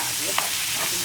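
Tempering of spices sizzling in hot oil in a pan for a milky Sri Lankan dhal, a steady frying hiss with a brief stir or clink near the middle, heard close with no talk.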